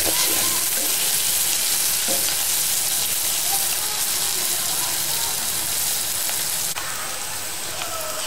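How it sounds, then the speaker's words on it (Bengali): Thinly sliced onions fry in a pan of hot oil for a beef curry, a loud, steady crackling sizzle with a few faint clinks and stirring scrapes, no voices over it. "পেঁয়াজ ভাজা হচ্ছে"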